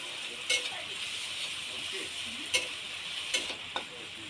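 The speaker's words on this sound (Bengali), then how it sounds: "এই পেঁয়াজটাকেও হালকা ভেজে নেব" Chopped onions fry in hot oil after tomatoes in a village-style Bengali kitchen, a steady close sizzle with a few sharp spoon clinks and stirs over it, no talking.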